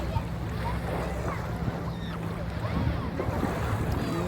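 Strong sea waves wash continuously along the shore at Fahaheel, Kuwait, with steady broadband surf and wind buffeting the microphone, heard up close and fairly loud throughout.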